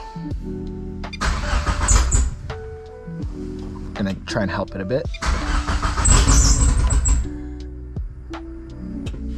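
A 2G GSX car engine cranks and fires amid a fault with no RPM signal, with bursts of starter churn and rough catching around two and six seconds, loud and close, while someone talks over it.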